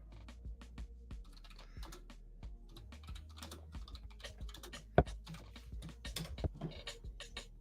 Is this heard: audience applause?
no